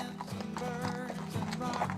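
Hooves of a horse-drawn driving team clip-clop in a steady trotting rhythm, close and fairly loud, with a brief snort or whinny-like tone mixed in and no speech.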